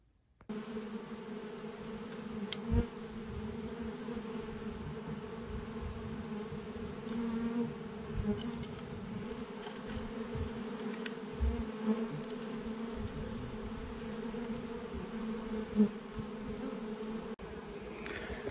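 Honey bees buzz around a swarm trap in August, a steady, low hum of many insects with occasional louder passes close by and a few small knocks underneath, continuing alone without talk.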